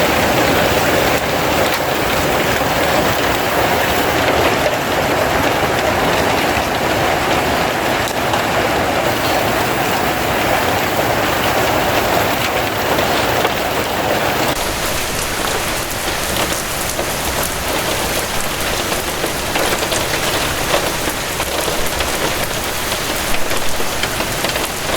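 A Colorado hailstorm pounds surfaces with a dense, unbroken clatter that stays loud and even, with no voices.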